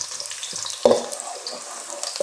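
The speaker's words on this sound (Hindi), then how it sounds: "प्याज ब्राउन हो जाए फिर मसाला ऐड करेंगे।" Onion paste with red chilli, coriander, turmeric and cardamom fries in a pan for egg kofta curry, giving a close, steady sizzle with a few sharp scraping knocks from stirring.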